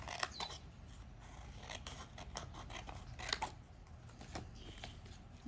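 Scissors snip paper in quiet, irregular short cuts close by, a series of soft crisp clicks and rustles with no talking.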